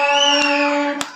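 Children sing a sustained, clear tune, and two sharp hand claps cut through near the start and end.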